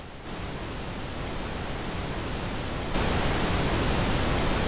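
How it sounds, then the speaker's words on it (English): Steady white noise test signal, a continuous broad hiss that steps up to a louder, fuller level about two-thirds of the way through, with no voices. "now if I bypass, it's about equal to the original white noise"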